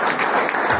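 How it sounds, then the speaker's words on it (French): Church congregation applauding at a Sunday service, a dense, steady wash of clapping filling the space without a break. "Est-ce que vous pouvez acclamer pour la voix de Dieu?"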